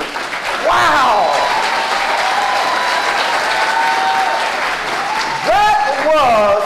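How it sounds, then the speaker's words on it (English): An audience at a Clayton County Public Schools State of the Schools event applauds its students with loud, sustained clapping that fills the hall, while a speaker's voice rises over the applause at the start and near the end. "Let's give another round of applause to our incredible students."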